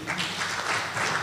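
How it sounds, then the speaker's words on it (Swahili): Applause from an audience in a hall at an interfaith religious leaders' peace conference in Mbeya, Tanzania: a dense, even burst of many hands clapping together, loud and close, lasting about a second with no speech over it. "naomba tuongeze makofi."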